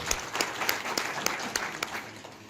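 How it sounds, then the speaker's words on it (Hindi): An audience claps loudly in welcome as a guest arrives at a local panchayat gathering, with dense, sustained applause filling the space and a few sharper individual claps standing out. "एक बार जोरदार तालियों से स्वागत।"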